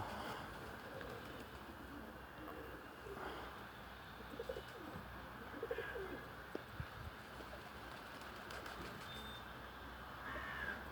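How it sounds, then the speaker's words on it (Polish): Pigeons coo in an outdoor flock in Budapest, soft repeated calls rising over a low ambient background at moderate distance, with occasional wing flutters and a faint crow caw. "No ale tak gruchają, ale to chyba wszędzie tak jest."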